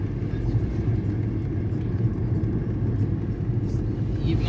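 A car drives along a long, open stretch of road, with a steady, loud engine and tyre rumble that stays constant and close throughout, with no talking.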